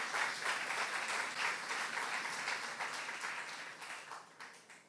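A church congregation at a youth service claps together after a sermon line, a moderate, fairly quiet wash of hand claps lasting several seconds and gradually fading.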